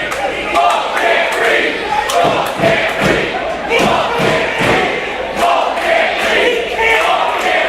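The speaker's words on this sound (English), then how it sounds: "the crowd chanting "Bulk can't breathe"" A crowd at a live event chanting in a steady rhythmic cadence, loud and close, with thumping beats and shouting voices throughout.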